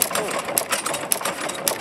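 Antique farm engine idling with its choke closed at an outdoor antique farm day, a steady rapid mechanical chugging with periodic louder knocks, heard close alongside faint voices.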